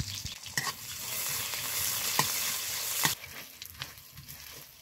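Sliced onion, green chili, cumin and dried red chili frying in hot oil in a pan for jute leaf greens, a steady close sizzle broken by a few sharp spoon scrapes and stirring knocks, with no voices.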